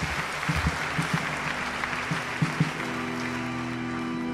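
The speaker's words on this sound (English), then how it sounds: "Please, a round of applause for them," Applause from the congregation at a priestly ordination of three newly ordained priests, a moderate, steady patter of clapping in a large gathering, fairly soft and lasting throughout.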